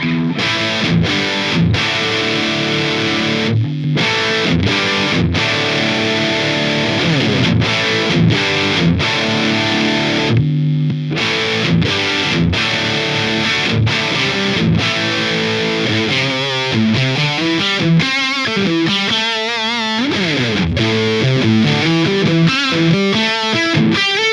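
Heavily overdriven electric guitar through a Line 6 Helix modelling an Orange Rockerverb with drive maxed, loud and close, with thick, saturated distortion on sustained chords and quicker picked runs toward the end, no voices.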